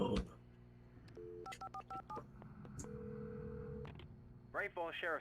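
In the video game Alan Wake, a run of electronic keypad tones dials a number in quick bursts, then a long steady tone sounds before a voice begins speaking.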